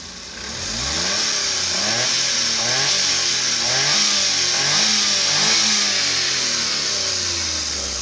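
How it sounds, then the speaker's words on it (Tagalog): The engine of a Suzuki multicab with a hard-starting fault revs up and down repeatedly, rising and falling in pitch over a steady loud mechanical drone, close by. "So i-rev natin kung may galit yung makina."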